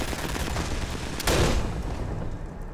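Gunfire aimed at a runaway plane's wheels in Sniper Elite 4, a dense burst of shots swelling briefly over a steady roar of game noise, with no talk.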